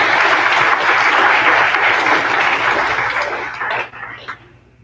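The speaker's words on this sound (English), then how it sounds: "So let's give her a round of applause." Audience applause at a high school awards ceremony, a dense burst of clapping that holds strong for a few seconds, then thins and dies away into quiet.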